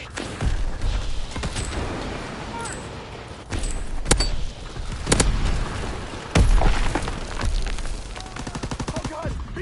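A bomb blast in the Call of Duty WW2 video game erupts amid continuous rattling gunfire and booming battlefield noise, with sharp loud bursts and a heavy detonation recurring over about ten seconds.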